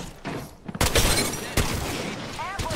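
Gunfire and bursts from an Apex Legends match, with loud broadband shots starting abruptly around the one-second mark and continuing densely throughout, while voices talk over the combat.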